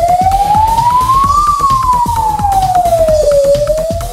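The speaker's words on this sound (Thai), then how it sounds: "2เสียงไซเรนคือสัญญาณแจ้งเหตุสารเคมีรั่วไหล" Emergency siren signalling a chemical leak at a PTT tank facility, a loud continuous wail that rises slowly, then falls and starts climbing again, steady and alone throughout.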